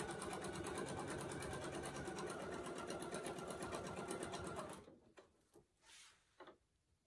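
A sewing machine quilting a line on a suspension quilting setup runs in a steady, fast, even stitching rhythm for several seconds, then stops, leaving a few soft handling knocks and rustles.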